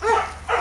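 A young puppy gives two quick, high yipping barks close by, separated by a brief pause, with no talking over them.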